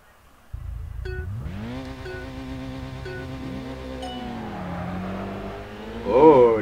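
A race car engine in the Kaido Racer 2 video game starts up suddenly and revs through rising and falling gear pitches, holding a steady drone, then surges louder near the end.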